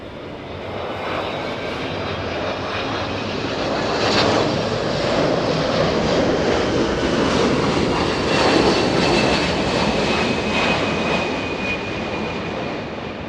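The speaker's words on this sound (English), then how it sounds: "Traffic heavy, Boeing 767, mile and a half final." A Boeing 767 jet on final and landing on runway 24 right at Los Angeles International Airport, a loud, sustained engine roar that swells toward the middle and stays heavy to the end, with no talking.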